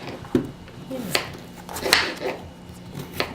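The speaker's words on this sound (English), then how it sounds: "Cutting potatoes." Potatoes cut on a board for corn chowder, a few separate knife thunks and clicks at irregular intervals, close by, with a person talking over them.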